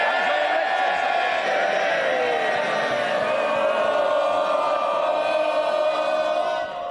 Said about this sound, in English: the biggest day in the House, and you want to carry on cheering?